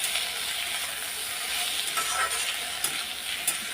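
Salted onions fry in a pan with a constant close hiss and sizzle, and a few sharp clinks of a utensil against the pan near the end.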